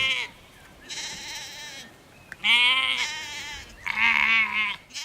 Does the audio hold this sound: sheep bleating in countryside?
yes